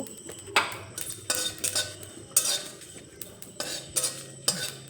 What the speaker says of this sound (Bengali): শুকনো খোলায় জিরে আর শুকনো লঙ্কাটা